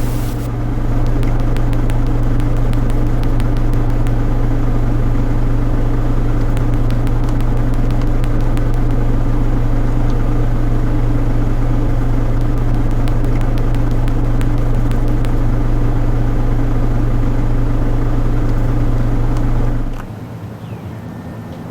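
Steady loud car interior drone with a deep engine and road rumble over a long drive across Australia, constant for about twenty seconds before dropping abruptly to a quieter hum.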